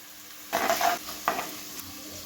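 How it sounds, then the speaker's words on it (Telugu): Garlic, urad dal, chana dal, cumin and mustard seeds fry in hot oil on a low flame: a brief burst of sizzling with two quick spoon stirs and a light metal clink, close by and unvoiced. "మినప్పప్పు, శనగపప్పు, ఎల్లిపాయలు కొంచెం ఎర్రగా వేంపుకోవాలి"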